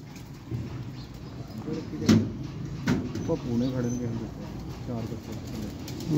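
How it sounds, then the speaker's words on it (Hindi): Soft, low cooing of banke pigeons repeats in the background while people talk nearby, with a couple of brief knocks. "नायाब तरीन दोस्तों बांके कबूतर"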